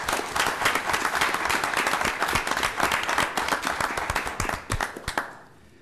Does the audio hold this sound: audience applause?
yes